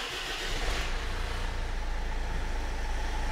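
A Land Rover Freelander TD4 diesel, just fitted with a replacement high-pressure fuel pump, settles into a steady, rumbling idle with a constant low engine drone close by and no talking.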